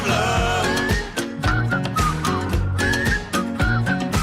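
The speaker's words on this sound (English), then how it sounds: "I've added the whistle." A bright whistled melody rides over a steady song with bass and drums, the whistle phrases rising and falling in short loud lines.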